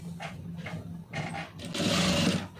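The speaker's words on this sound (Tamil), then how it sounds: "அதை மடக்கி அப்படியே ஒரு தையல் போட்டுருங்க." Sewing machine stitching folded blouse fabric: short bursts of rapid mechanical whirring separated by brief pauses, then a longer, louder continuous run near the end, close and clear.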